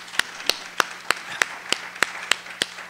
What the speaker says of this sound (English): join me in advance in giving him a round of applause for bringing us together